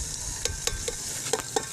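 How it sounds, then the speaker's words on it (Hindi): Ginger garlic paste sizzles in a pan with golden brown onions over a wood fire, a continuous hiss broken by several quick clinks of a spoon stirring. "प्याज की गोल्डन ब्राउन हो चुकी है, अब इसमें हम डालेंगे अदरक लहसुन का पेस्ट डाल देंगे"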